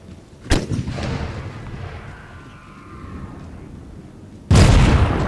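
Artillery fire in Napoleon Total War with The Great War mod: two loud booming cannon blasts, one near the start and a heavier one near the end, with rumbling battlefield ambience between them.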